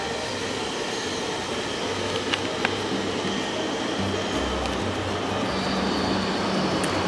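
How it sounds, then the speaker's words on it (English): A freight train rumbles past steadily at close range, a continuous roar of rolling cars with faint metallic squeaks, no voices over it. "I waited like so long for that last train to go by"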